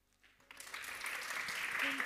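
Warm applause from a seminar audience in a lecture hall at a Lund EU event, starting quietly and swelling into steady, broad clapping that fills the room.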